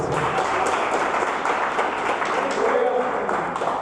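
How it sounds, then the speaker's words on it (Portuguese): A church congregation applauds steadily and densely, with voices mixed in underneath the clapping. "Pode aplaudir o nome do Senhor Jesus."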